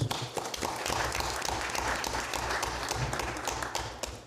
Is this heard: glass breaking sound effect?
no